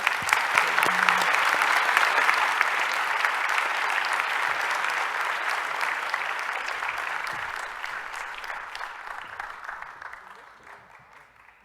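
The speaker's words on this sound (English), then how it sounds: "Please join me in a round of applause for Mitch Withers as we welcome him to the stage" Sustained audience applause fills a room at an awards luncheon, steady dense clapping that holds for several seconds before gradually thinning and fading out.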